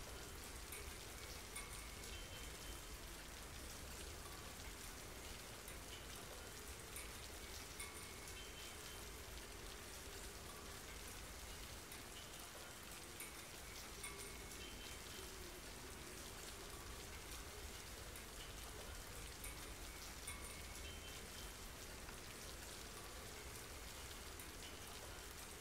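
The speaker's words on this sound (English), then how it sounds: "Turning off the rain sounds there that everyone was hearing." Steady rainfall from Left 4 Dead 2 pours on without pause, a faint, even wash of droplets on surfaces with no voices or other sounds breaking through.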